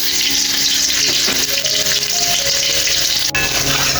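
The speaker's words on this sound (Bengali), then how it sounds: "রসুন ভাজা হয়ে গেছে" Garlic paste ground with vinegar fries in hot oil with panch phoron and bay leaves. It makes a loud, steady sizzle with a sharp tap partway through.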